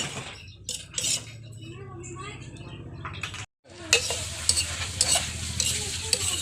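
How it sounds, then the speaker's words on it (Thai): Thai chili paste being stirred and dry-roasted in a pan over low heat, a utensil scraping and clinking against the metal with a soft sizzle, close and continuous, briefly stopping once. "คั่วด้วยไฟอ่อนนะคะ คั่วไปเรื่อย ๆจะใช้เวลาหน่อย"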